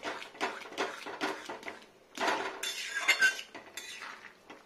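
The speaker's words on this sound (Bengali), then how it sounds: "কড়াইতে বেশি শব্দ করছে" Metal spoon clattering and scraping against a metal kadai while jhinge aloo posto cooks, a run of loud close clinks and rattles in irregular bursts.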